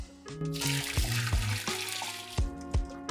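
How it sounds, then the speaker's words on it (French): Hot water drained off cooked potatoes for homemade gnocchi, a close, continuous splashing pour into a sink with irregular gurgles and glugs and occasional clunks of the pot. "on va vider l'eau des patates"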